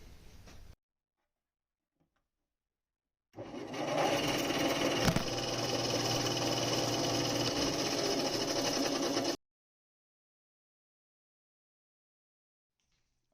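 A bandsaw cuts a wooden disc spun around a nail pivot, a steady loud whirring buzz running for about six seconds after a brief burst, then cutting off to silence.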